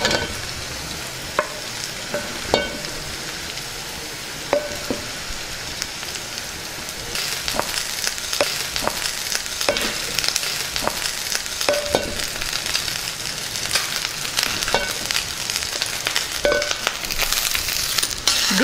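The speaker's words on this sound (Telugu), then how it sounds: "ముందుగా వండుకున్న అన్నాన్ని ఇందులో వేసుకుందాం." Cooked rice stirred and fried in tempering oil for fried rice, with crackling sizzle and repeated spoon scrapes and taps that grow busier partway through, close and with no talk.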